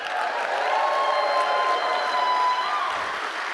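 Live audience at an Ignite Seattle event applauding and cheering, a dense sustained roar of clapping and whoops at close range lasting several seconds with no talk over it.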